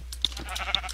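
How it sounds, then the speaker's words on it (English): A Minecraft sheep bleats in two short, close calls, clear and alone with no talking. "Hello, sheep."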